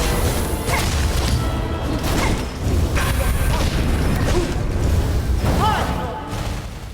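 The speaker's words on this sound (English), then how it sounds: "Her slam attack now sets the floor on fire." Last Judge boss in Silksong slamming down and setting off fire pillars, a dense, loud wash of booming impacts, roaring flames and clanking game effects with a few sweeping whooshes, sustained throughout with little pause.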